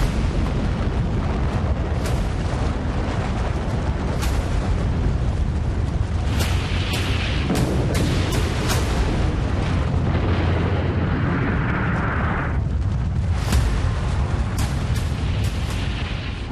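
A nuclear bomb blast rendered as a sound effect: a dense, loud, sustained roar of explosive rumble punctuated by several sharp cracking bursts and rolling booms throughout.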